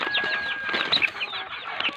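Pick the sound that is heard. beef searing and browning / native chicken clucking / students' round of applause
native chicken clucking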